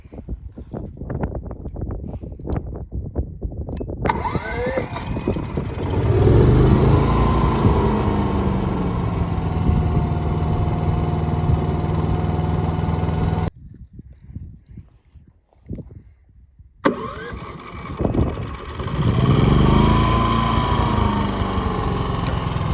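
An AIVOLT 10K watt inverter generator idles outdoors with a steady, close engine drone and wind buffeting the microphone, cutting out briefly partway through before the hum returns.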